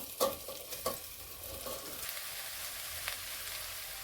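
Steamed cluster beans being sautéed in tomato masala, a soft sizzle with a few spoon scrapes early on, then a quiet steady frying hiss.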